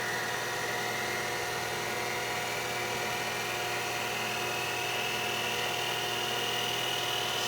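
A lathe turns a steel shim for a surface grinder wheel hub at 1100 RPM under a high feed, producing a steady, continuous machine whine and hum throughout, with no talking.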